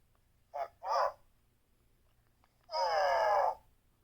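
A Star Wars Droidables Chopper C1-10P toy, tilted, gives two short electronic chirps followed by a longer warbling buzzy droid sound, fairly close and alone.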